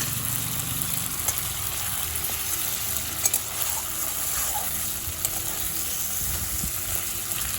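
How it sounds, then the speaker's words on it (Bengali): Chopped tomatoes sizzle in a cooked spice masala over medium flame, a continuous close hiss with a wet, bubbling texture and occasional stirring clinks, no voices. "এবার কেটে রাখা টমেটোগুলো দিয়ে দিলাম"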